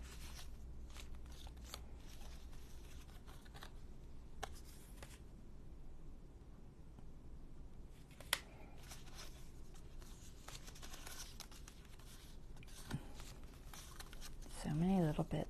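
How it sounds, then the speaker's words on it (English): Scissors fussy cutting a paper image out for a mini junk journal, quiet intermittent snips and paper rustles, close and faint, with a brief voice near the end. "Fussy cut him out pretty good."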